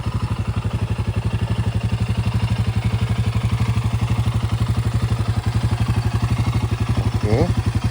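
A Royal Enfield Guerrilla 450 with a liquid-cooled 450cc engine, shared with the Himalayan 450, runs close by with a steady, even, rapid thumping pulse. A brief rising note sounds near the end.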